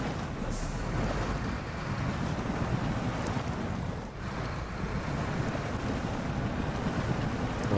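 A truck in SnowRunner churns through a lake on an island with all-wheel drive engaged, giving a steady broadband wash of water and engine rumble that runs continuously and fairly loud, dipping briefly midway.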